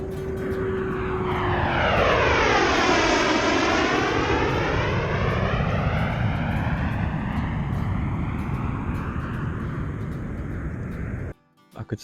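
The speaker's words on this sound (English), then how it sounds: "could see the guy flying that plane" A propeller plane passes overhead above Lake Windermere on a calm day, its engine drone rising as it approaches, sweeping down in pitch as it flies over, then fading steadily into the distance before cutting off near the end.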